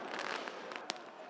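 Fireworks thrown by protesters outside the Greek parliament on a Friday night crackle and pop amid a dense crowd roar, with one sharp, loud bang standing out near the end.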